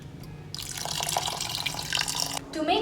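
Cold water pours into a pan of strained, cooked sago, a steady rushing splash lasting about two seconds at close range, with a voice speaking around it.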